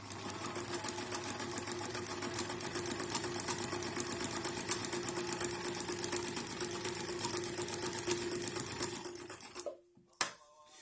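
A Brother Riviera 110 sewing machine, an older model, stitches continuously with a fast, steady clatter that stops abruptly near the end, followed by a short thump.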